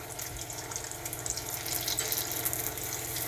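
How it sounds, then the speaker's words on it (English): Chicken and cheese spring rolls fry in hot oil, giving a steady, dense bubbling sizzle close up throughout. "So I'm just going to put this into hot oil, and straight away it's bubbling"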